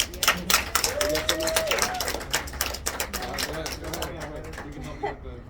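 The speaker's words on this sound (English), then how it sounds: "a round of applause" A burst of clapping from a small conference group, scattered and uneven, with some background chatter mixed in.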